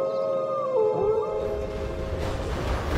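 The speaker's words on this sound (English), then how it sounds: "He whimpered and yowled, he sat by the gate and he howled" A dog howls in a cartoon story, a long wavering tone that rises and bends before trailing off, followed by softer whimpering, fairly close and with no talk over it.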